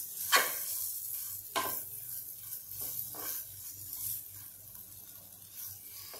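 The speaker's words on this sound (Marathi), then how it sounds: "खसखसही यामध्ये भाजली गेली पाहिजे" Poppy seeds roasting in a pan with hing, turned with a spoon: a few distinct scraping stirs over a quiet, faint sizzle, close but low in level, with no talking.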